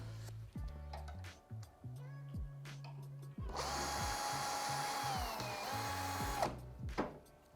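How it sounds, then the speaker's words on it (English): A power drill unscrews screws from a Fisher Paykel tumble dryer: short bursts of whirring, then a longer continuous high-pitched spin and a final brief burst, close and moderately quiet. "just unscrew that, comes out"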